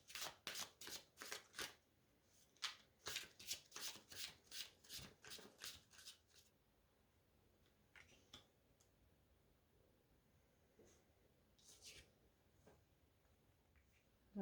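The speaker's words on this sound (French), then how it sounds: "on va tirer quelques cartes pour essayer d'avoir un petit peu plus d'éléments" Tarot cards are shuffled in a quick run of crisp riffling bursts for several seconds, then a few softer slides and taps as cards are drawn, close and quiet with no talking.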